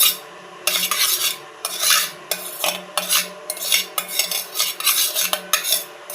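A spoon stirs ghee into thick batter in a pan, making close, rhythmic scraping and clinking strokes that repeat steadily, with no talking.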